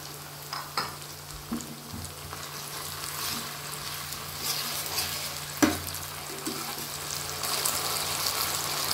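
Tomato puree and ginger-garlic paste hit hot oil for an egg curry, giving a steady, close hiss of frying with a few soft stirring knocks, and no voices.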